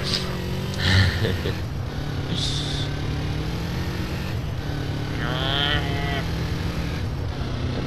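A motorcycle engine runs in the multiplayer video game GTA San Andreas, a steady loud drone with changing pitch as it speeds up and revs, with brief higher whines overlaid.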